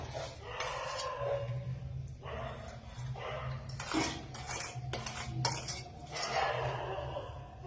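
A spoon stirring milk with jaggery in a metal pot over a low flame for dudh pitha, producing repeated close clinks and scrapes against the pan. A dog barks faintly in the background.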